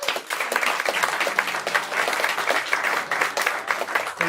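A concert crowd applauds as a duo returns to the stage for a second set, dense sustained clapping filling the room at a loud, steady level throughout.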